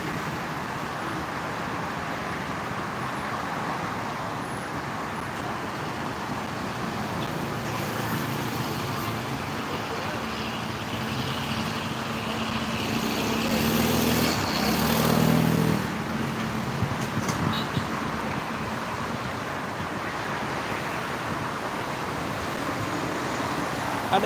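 Steady roar of congested traffic on a Jakarta-bound toll road, with engines idling and creeping, a heavier vehicle swelling briefly midway, continuous and near.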